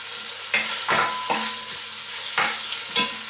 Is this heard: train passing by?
no